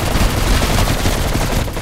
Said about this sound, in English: You got like a shockwave cannon.